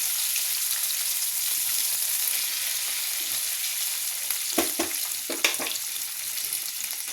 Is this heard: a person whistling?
no